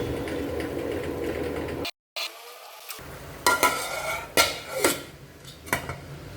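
Chicken stirred in a pan with hot water, a steady simmering hiss broken by a brief silent gap, then several sharp scraping clinks of a utensil against the pan.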